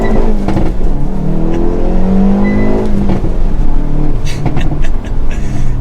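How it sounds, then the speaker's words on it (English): A 2022 Hyundai Veloster N with a six-speed manual accelerates hard, its engine note rising loud and close, while sharp exhaust pops and crackles break through near the end. "You can hear those pops on the exhaust."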